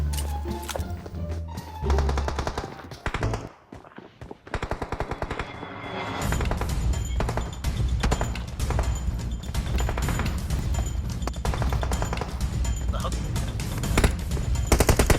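Automatic gunfire in the PUBG Mobile shooter game, dense rapid bursts repeating loudly through most of the clip after a brief lull, with a player's voice talking over the shots.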